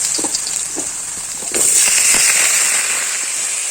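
Potatoes drop into hot oil and set off a loud, bright sizzle that swells sharply partway through and then holds as a steady crackling hiss, with a few faint clinks beforehand.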